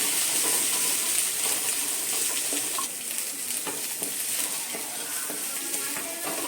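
Finely cut carrots and beans stirred into frying onions in a pan for vegetable fried rice, with a loud, continuous close sizzle and soft stirring scrapes throughout.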